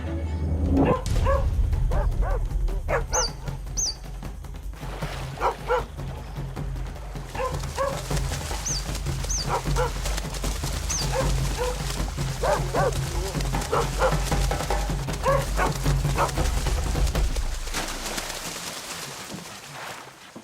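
Feral dogs barking and yipping at a family of otters in Sungai Buloh wetland sanctuary, Singapore; repeated sharp barks and whimpers at mid distance over steady ambient noise.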